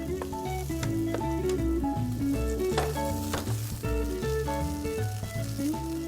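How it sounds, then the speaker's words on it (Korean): Oyster and king oyster mushrooms fry in hot olive oil in a pan over fairly high heat. A steady sizzle runs throughout beneath prominent melodic background music. "먼저 버섯을 볶을게요"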